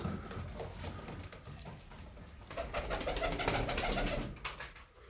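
Pigeons coo softly nearby in a coop, several birds overlapping, with flutters and light scratching growing busier midway through.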